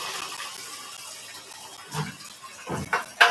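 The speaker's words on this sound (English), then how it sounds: "I'll just soak it in hot water or something." Hot water running from a tap to soak a container of arnica pain relief gel, a faint trickle followed by a few louder splashing gushes near the end.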